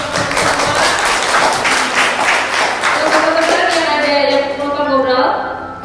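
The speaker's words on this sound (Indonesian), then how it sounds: "Tepuk tangan." Studio audience members on an Indonesian talk show clap briefly as a hosted chat segment ends, brisk close clapping that tapers off, with voices talking over it toward the end.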